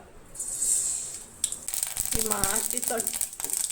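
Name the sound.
mustard seeds sizzling in hot oil for Goan bhaji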